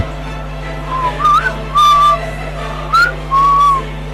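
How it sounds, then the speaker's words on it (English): In a school stage performance of Romeo and Juliet, a page gives several short, clear whistles, rising and sliding tones in separate bursts over a steady background hum. "My page whistles."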